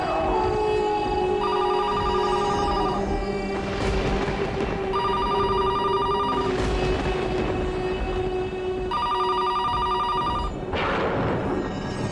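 A telephone bell rings in repeated bursts with pauses between them, loud and close, over a steady rumbling background.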